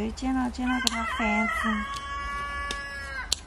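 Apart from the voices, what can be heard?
rooster crowing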